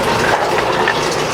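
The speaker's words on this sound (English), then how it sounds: "so that's just the water come down the gutter." Rainwater pours down a gutter after a thunderstorm in a loud, close, steady gush of running water, with no break over the short stretch.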